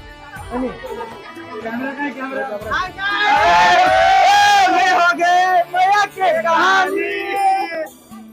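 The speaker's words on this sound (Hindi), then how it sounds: "आप देख रहे हो कि कितना भीड़ है।" A packed crowd fills a cinema hall at Jay Shri Talkies in Nagpur, loud overlapping voices, shouts and cheering swelling into a sustained roar with a few sharp breaks, close and dense throughout.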